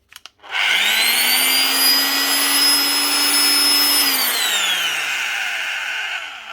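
An old 1200-watt Flex L1506 VR grinder running slowly gives a loud, steady motor whine with a bright high tone, then winds down and fades near the end. No one talks over it.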